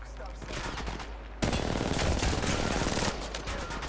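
An R99 submachine gun fires in Apex Legends Mobile, a loud, sustained stream of very rapid shots that swells in the middle and continues at a lower level.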